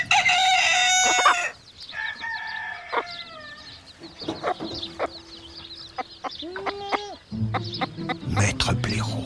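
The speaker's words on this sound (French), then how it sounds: "Le coq a sonné l'alarme." On a farm, a rooster crows an alarm, its loud, drawn-out call rising near the start, followed by scattered clucks and other fowl calls of varying distance that continue through the rest.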